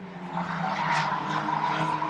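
Stock cars racing on a short oval track at night, engines roaring and tires squealing as cars pass close by, a continuous loud mechanical drone with no talking.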